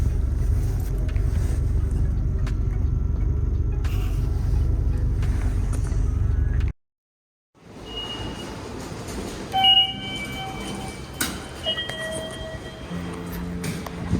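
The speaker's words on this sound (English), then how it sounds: "We got in the bus." Inside a moving bus in Japan, a steady loud engine and road rumble fills the ride, cuts out briefly, then returns with rattles, squeaks and faint beeps over the hum.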